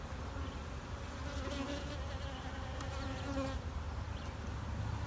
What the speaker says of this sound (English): all these bees I'm taking out, half of them are field bees